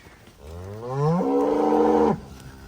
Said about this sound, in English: there's some big fat looking cows here